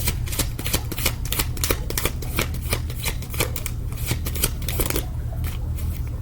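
Tarot cards are shuffled continuously and close up, a steady stream of rapid crisp riffling flutters lasting several seconds with no talking.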